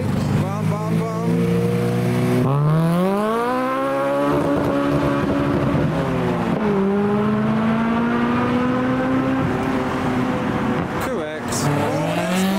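Retro racing cars, including a Jaguar with a wet-sounding engine, screaming through gears in the GT3 video game, rising engine notes repeatedly climbing and dropping with a brief tire squeal, loud and continuous.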